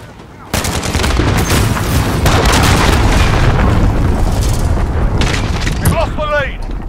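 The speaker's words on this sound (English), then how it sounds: "Enemy cruise missile incoming!" A cruise missile explodes in Call of Duty: Modern Warfare on the Rust map, a sudden loud blast that rumbles on for several seconds amid gunfire, ending with a few sharp zipping effects.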